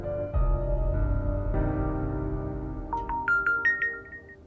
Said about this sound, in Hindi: तो डॉक्टर का फोन है।